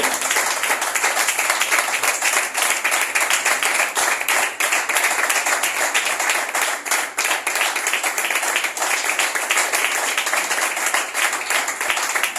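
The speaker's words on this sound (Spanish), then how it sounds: "dale fuerte las palmas a Cristo" A church congregation claps hard and fast in a steady, dense rhythm for well over ten seconds, loud and close, filling the room with no talk over it.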